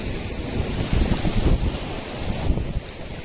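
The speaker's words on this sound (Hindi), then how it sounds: "आप लोग मेरे पीछे समुद्र का लुत्फ़ भी लेते रहिए" Ocean waves wash ashore at the seaside, a steady broadband surf roar with slight swells, mixed with wind buffeting the microphone; no voices.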